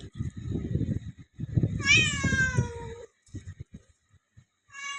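A cat gives one clear, close meow in the middle of a person's talk, followed by a short rising call at the end.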